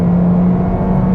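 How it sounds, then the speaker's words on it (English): A 2021 Toyota Corolla Apex engine buzzing under hard acceleration, a loud, steady droning hum heard from inside the car with no talking. "if I put my foot down, that powertrain is buzzy"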